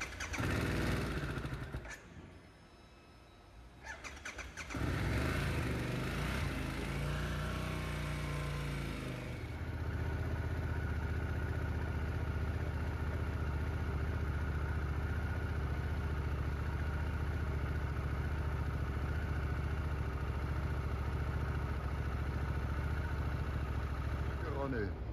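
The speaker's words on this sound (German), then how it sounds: "Motorrad läuft, jetzt geht's ab." A motorcycle on a Panamerica trip is started after repairs, cranking and catching before settling into a steady, loud idle that runs on close by, with someone speaking briefly near the start.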